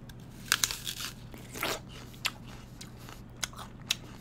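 A crisp NY Ruby Frost apple being bitten and chewed up close, a loud crunching snap followed by wet chewing and a few sharper crunches spaced out over several seconds.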